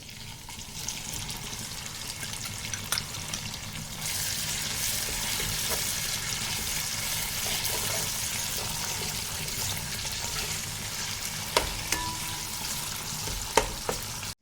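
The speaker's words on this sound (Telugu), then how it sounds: "ఇది కొంచెం గోల్డెన్ బ్రౌన్ కలర్ వచ్చేదాకా ఫ్రై చేసుకొని ఇంత దంచుకున్న ఆనియన్ వేసుకుందాం" Pounded onion fries in hot oil for catla fish curry, a steady sizzling hiss that grows louder partway through, with a few sharp stirring clinks of a spoon against the pan, close and free of talk.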